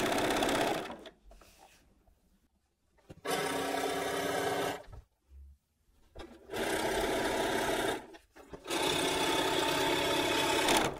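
Domestic sewing machine running in three separate bursts, stitching back and forth to lock the seam on a quilted pillow case, with short quiet pauses between runs.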